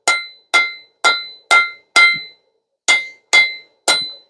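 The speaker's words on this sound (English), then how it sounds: "Now what I'm going to do on this is put a three-sided taper on it." Sharp ringing hammer blows on hot metal stock as a taper is drawn out, eight loud close strikes in a steady rhythm with a brief gap before the last three.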